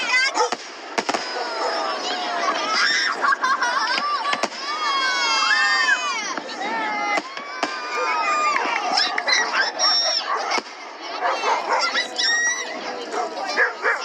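A Christmas in July fireworks display over the Connecticut River at Turners Falls sends sharp, scattered bangs through the night while a nearby dog barks and whimpers repeatedly and a crowd murmurs.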